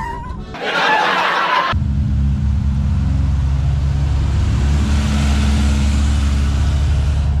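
A 2-liter dune vehicle engine runs at Glamis Dunes, a loud, steady drone that starts after a short burst and holds close and constant to the end.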